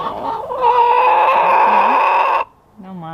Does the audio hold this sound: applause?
no